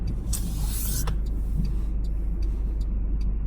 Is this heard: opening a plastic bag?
no